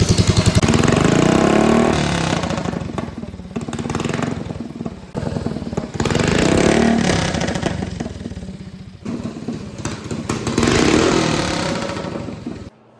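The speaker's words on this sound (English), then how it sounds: "as you saw when I started that bike, it wanted to pull forward on me a little bit" A mini bike engine runs close and loud at night, its rough mid-pitched idle surging in repeated revs and easing back down.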